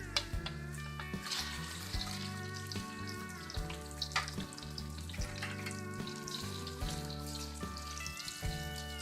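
Previously fried chicken pieces go into a sizzling pan for Singaporean rice, giving a steady frying hiss with stirring clatter throughout, moderately loud, over faint background music and with no talk.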